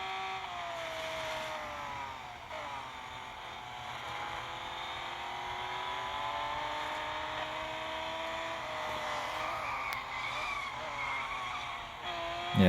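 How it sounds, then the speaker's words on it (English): Sustained tire skidding and engine drone from a race car in the Track Day racing video game, a continuous loud squealing wash with slowly shifting tones held across the whole stretch, no voices. "the skidding should help warm up the tires quicker"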